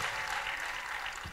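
A church congregation applauds in a brief, steady, fairly distant wash of clapping with no break.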